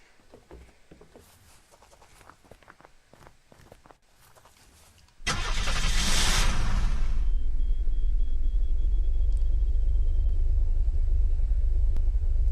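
A car engine in the survival game Unturned cranks and catches with a sudden loud burst, then settles into a deep, steady idle rumble. Light tapping and footsteps come before it.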